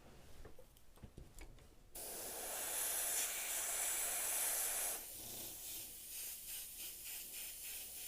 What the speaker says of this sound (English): I'm going to spray the exhaust with white